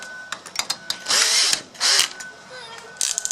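A power drill drives screws into a patio door lock: two sustained whirring bursts, close and loud, with short clicks and taps in between and at the end.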